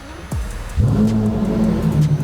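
A Lamborghini Murciélago engine catches after a brief whoosh, then settles into a loud, steady low rumble that carries through to the end.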